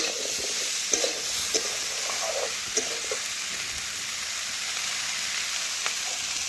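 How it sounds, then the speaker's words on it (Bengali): Vegetables and a fish head sizzle steadily in a hot pan for a chhechra dish, with a constant frying hiss broken by occasional clinks and scrapes of a spoon stirring, close and moderately loud. "দেখুন বন্ধুরা, আমি ভালোভাবে নাড়াচাড়া করে সবজির সাথে মিশিয়ে নিচ্ছি।"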